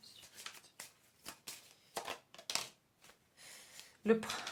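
Tarot cards being shuffled and drawn for a monthly reading, heard as a run of quick papery flicks and riffles in uneven bursts, close and fairly quiet, ending with a brief louder knock.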